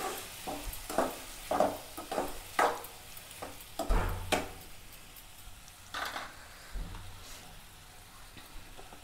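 Chana dal sizzles and fries in a pan, stirred in a series of scraping strokes that come roughly every half second to second, with a steady frying hiss beneath, close up and with no talking.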